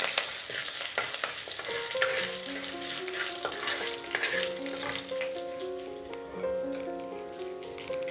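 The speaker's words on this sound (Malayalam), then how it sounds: "ഇത് ചെറുതായിട്ടൊന്ന് നമുക്ക് ഇളക്കി കൊടുക്കാം." Steady crackling sizzle of ginger frying in a pan, with scraping stirs and a soft melodic tone running underneath.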